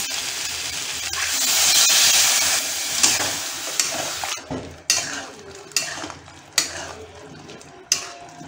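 Small winter potatoes cooking with fennel paste and sugar hiss in a steady wave of sizzle as water goes in, then a spoon stirs them with sharp, evenly spaced scrapes and knocks against the pan.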